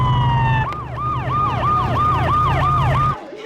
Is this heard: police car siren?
yes